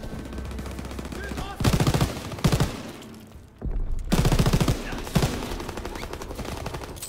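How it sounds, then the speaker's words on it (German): MG42 machine gun fire in a Call of Duty WWII D-Day campaign battle: several loud, rapid bursts of automatic fire with short gaps between them, set against dense battlefield noise. "MG42, aber nur 50 Schuss?"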